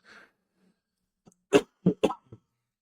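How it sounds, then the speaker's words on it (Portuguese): A short series of three or four sharp coughs from a man with a persistent cough, close to the mic, preceded by a faint breath, with quiet gaps between. "Desculpa, eu tô com uma tosse bem chata"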